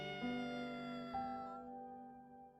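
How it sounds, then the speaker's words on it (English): A cat lets out one loud, drawn-out meow, close by and alone, fading into a quiet tail. "It meows loudly, just once"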